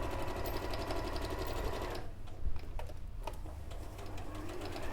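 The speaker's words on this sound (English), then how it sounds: "then we can top stitch around the hexagons" Sewing machine top stitching around fabric hexagons, running with a steady rapid needle rattle that stops briefly and then resumes, close and continuous, with faint talk underneath.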